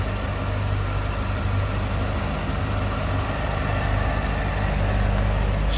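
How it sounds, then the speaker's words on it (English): A supercharged LS3 V8 in a 2012 Chevrolet Corvette Callaway convertible idles smoothly and steadily at a low rumble, close by, with no voices. "Smooth running engine."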